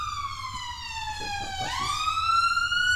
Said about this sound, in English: There's a fire engine going past.